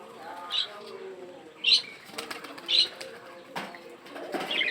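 Pigeons at a home loft flap their wings in several brief bursts, with soft coos and faint chirps between the wingbeats in a quiet setting.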